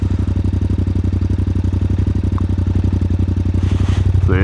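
Yamaha MT07 motorcycle with an aftermarket exhaust idling close by, a steady pulsing throb with an even rhythmic beat, ending with a brief rise in revs.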